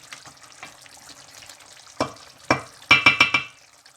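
Karahi gosht stir-fried in a pan: soft background sizzle, then a run of sharp scraping, clattering stirs that quicken into several loud close strokes.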